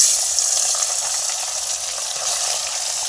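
Oil heating in a kadai before fish goes in, a steady soft hiss and light sizzle that stays even and close throughout with no voices.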